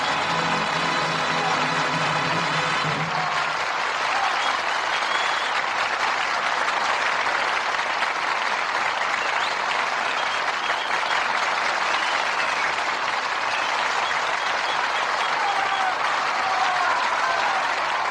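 Studio audience applauding at a live radio theater broadcast, sustained dense clapping that starts at once after a brief musical ending and continues steadily.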